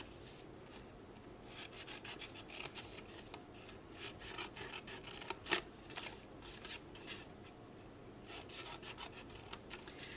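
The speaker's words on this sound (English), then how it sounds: "I'm going to take my paper snips, and on the long side I'm going to cut on the score line" Paper snips slicing through cardstock along a score line for a Fourth of July favor box, a run of short crisp rasping cuts at close range with no talking.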